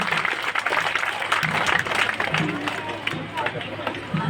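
Audience applause for a winning girl at a Mother's Day celebration at a school, steady clapping and crowd noise filling the whole stretch, with some voices mixed in.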